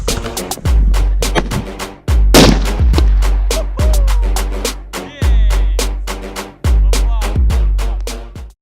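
P100 firecrackers wrapped in ordinary foil explode outdoors in a forest, a rapid volley of sharp, loud, close bangs with booming low thumps recurring every second or so.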